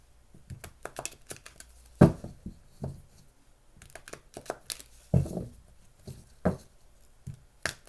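Soft rustling and riffling of cards being shuffled by hand, with scattered taps and slaps in an irregular rhythm, close and fairly quiet.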